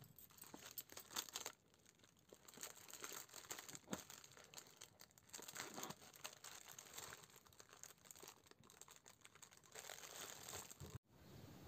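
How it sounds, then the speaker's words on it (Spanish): Scissors curl a leftover strip of plastic curly ribbon on a candy holder, making a close, continuous crinkly scraping that runs unbroken and cuts off abruptly near the end. "Y con las tijeras vamos a enchinar este poquito de curly que nos sobró."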